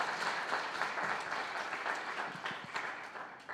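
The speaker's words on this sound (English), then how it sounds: "So can we give them another round of applause?" An audience at a collegiate pitch competition gives a round of applause, a steady wash of clapping heard from a distance at low volume.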